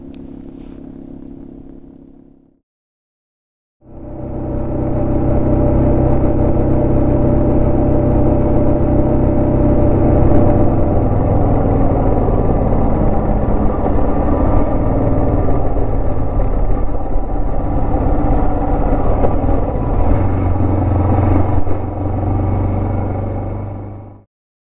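Adventure motorcycle riding on back roads near the California redwoods: a brief engine idle, a short pause, then a loud, steady engine drone and wind rush for about twenty seconds, with no talking.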